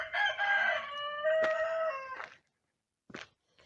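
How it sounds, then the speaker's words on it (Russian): Roosters crow nearby, one long loud cock-a-doodle-doo overlapping another, then a short pause and a brief fainter call. "Мои петухи вас приветствуют, даже соседские."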